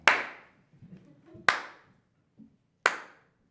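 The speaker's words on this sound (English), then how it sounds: "slow clapping." One person claps slowly in a gift shop: three sharp, separate claps about a second and a half apart, close and loud, with faint rustling between them.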